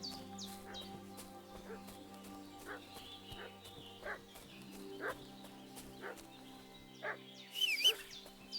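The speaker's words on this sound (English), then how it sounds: "Is that my dog?" A dog in the Kingdom Come: Deliverance 2 video game barks in short single woofs at a roughly steady one-second rhythm, moderately distant, over a quiet tonal hum with faint bird and farm sounds.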